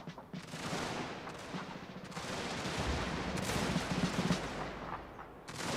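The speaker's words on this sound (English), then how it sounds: "Screw fire by rank and just fire everything you have." Massed musket and rifle volleys from troops firing every weapon at once in a Total War battle, a dense, continuous crackle of overlapping shots rolling on throughout with no talk.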